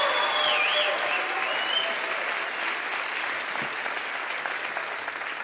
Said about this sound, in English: let's give Jesus a bigger hand clap